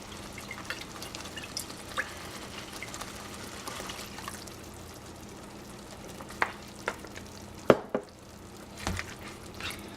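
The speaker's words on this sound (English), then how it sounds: "So now you're gonna let the sauce simmer for about 10 minutes." Vegetable lasagna tomato sauce simmers in a pot with soft bubbling and sizzling, broken by a few distinct scrapes and clunks of a spoon stirring against the pot.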